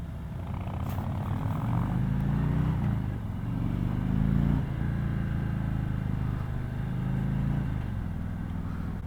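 A 2018 Harley-Davidson Road King motorcycle rumbles at a low, steady engine drone while riding, with mild swells in revs, heard from the rider's position without talk.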